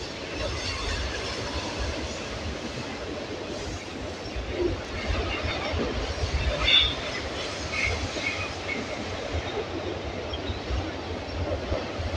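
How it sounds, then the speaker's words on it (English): A train rumbles past close by overhead while inside a cave by water, a steady loud roar with rattling wheels and a faint squeal, continuous throughout. "Train on top."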